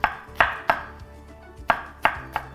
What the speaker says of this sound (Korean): 가지를 채를 썰어주세요.